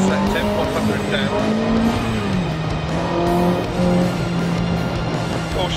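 An Alpine A110 rally car in the Dirt Rally video game drives the Waldabstieg forest stage, its engine rising and falling through gear changes with bursts of tire noise, while a co-driver calls pace notes over it.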